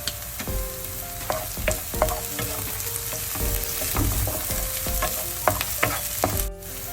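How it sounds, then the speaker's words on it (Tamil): Onions, green chillies and dried chillies with a pinch of salt sauté in a pan, a steady close sizzle broken by frequent clacking stirs and scrapes of a spoon throughout, with no talking. "இந்த வெங்காயம் பச்சை மிளகாய் கொஞ்ச நேரம் வதங்கி கொண்டு வர"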